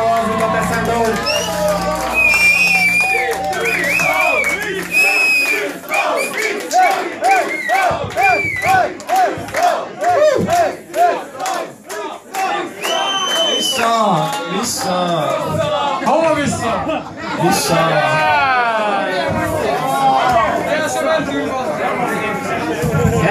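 Live concert crowd at Club Silver during a show in 2014, a loud dense mass of shouting voices swelling and dipping in waves, chanting and yelling together with no music between them.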